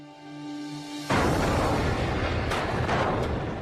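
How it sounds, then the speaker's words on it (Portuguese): A deep, sudden blast erupts after a quiet second, a volcanic explosion like the ancient eruption on the Greek island of Santorini, rumbling on loud and broad with a few sharp crackles layered through it. "a ilha grega de Santorini viveu uma das explosões vulcânicas mais devastadoras de todas"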